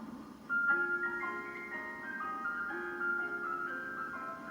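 A Walls ice cream van built by Whitby Morrison plays its chime, a bright tinkling electronic melody of repeated notes, loud and close and running continuously with no talking.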